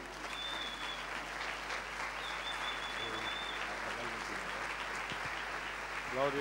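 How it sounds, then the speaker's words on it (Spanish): Church congregation on its feet applauding to welcome an apostle at a worship celebration: dense, steady clapping fills the whole stretch at moderate loudness, with a thin whistle and a few voices threaded through it. "vamos a recibir a nuestro apóstol con un gran y fuerte aplauso"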